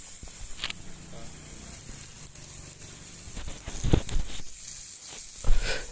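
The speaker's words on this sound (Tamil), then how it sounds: "நம்ம கல் சூடாக இருக்குது அதில் வந்து அப்படியே நம்ம வெங்காயத்தை தூக்கி போட்டு நல்லா வதக்க ஆரம்பிச்சிடலாம்" Onions tossed onto a hot griddle for a mint egg scramble sizzle with a steady broadband hiss, punctuated by a few louder clattering bursts near the end, while a person talks over the cooking.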